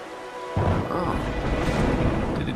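Rain pours in the video game Wuthering Waves, a dense hiss with low thunder rumbling beneath it, starting suddenly after a quiet opening and then holding steady.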